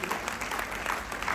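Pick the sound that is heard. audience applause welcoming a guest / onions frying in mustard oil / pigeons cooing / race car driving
audience applause welcoming a guest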